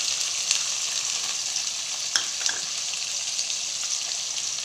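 Vegetables such as carrot, kohlrabi and beans frying in a pan, a continuous bright sizzle with a few soft clicks and stirring taps, steady and close, no voices.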